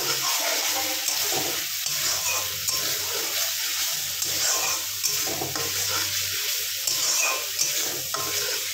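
Spices with a little chili powder fry in a pan, giving a steady broadband sizzle with soft scraping as they are stirred, close and continuous with no voice.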